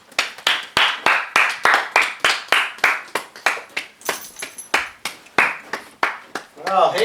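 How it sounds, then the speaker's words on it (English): Hands clapping at a drag racing championship press conference for a high school drag strip champion, a loud, close rhythm of single claps at a fairly even pace, with a short voice near the end. "Let's clap for him."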